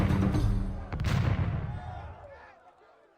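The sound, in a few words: cannon fire in a video game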